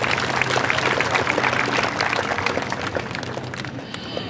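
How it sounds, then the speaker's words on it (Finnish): Applause from a crowd at an outdoor tractor pulling competition, a dense, steady clatter of clapping that runs throughout and tapers slightly toward the end, heard without speech. "Niin aplodit juu tosiaan Vilpotarille."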